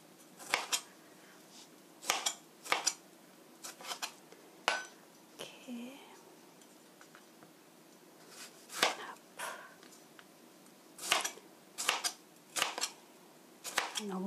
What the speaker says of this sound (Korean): 너무 두껍지 않게 얇게 썰어주세요.